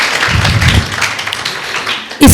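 Loud applause from an audience at a school welcoming ceremony, starting as a dense burst near the end after a stretch of softer tapping and murmur.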